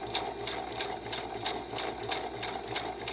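A sewing machine set to zigzag chain-stitches fabric pieces one after another in a continuous, even mechanical whir with a fast regular pulsing beat, close by and steady with no pauses.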